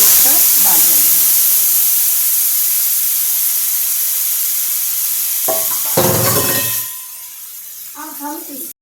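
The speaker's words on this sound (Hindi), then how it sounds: "देखिए अब राई तो तड़क रही है।" Mustard seeds crackle in hot oil, a loud continuous sizzling hiss with fine popping that runs steadily and then cuts off before a few quieter clattering sounds.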